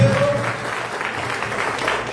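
A church congregation claps together during a special Mass, a loud, dense, steady patter of many hands that fills the space and runs without a break.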